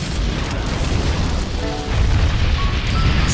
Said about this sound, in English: Singed by flamethrower.